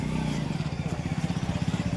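A motorcycle engine runs close by with a steady low, pulsing throb and rapid regular firing beats, continuous and moderately loud.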